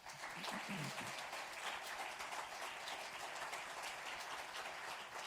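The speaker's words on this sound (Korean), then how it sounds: "박수로 격려하겠습니다." A church congregation claps in steady, even applause during a Sunday worship service, a dense continuous patter heard from within the room, quite faint overall, with a brief voice at the start.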